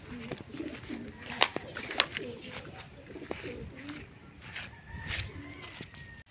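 Racing pigeons coo in soft repeated low phrases as they come home during a pigeon race, with a few sharp clicks and brief chirps over a faint outdoor background; no talking.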